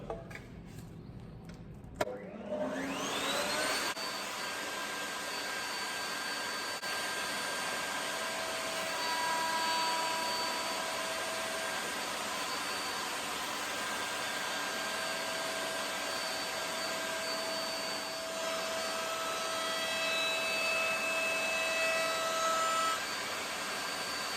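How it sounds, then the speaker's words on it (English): Woodworking machine cutting an ovolo moulding into timber for a door's bottom section: a steady loud whine starts after a brief clunk and spin-up, then runs continuously for about twenty seconds with slight swells as the timber feeds through. "Never start the machine with the timber in contact with the cutter."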